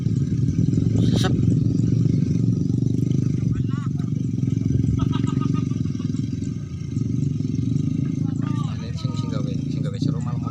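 Motorcycles ride past on a village road, their engines droning steadily and fairly close, with clattering and scraping along the way and people talking throughout.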